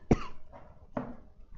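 A person coughs once sharply, followed by a softer second cough a moment later, close and fairly quiet.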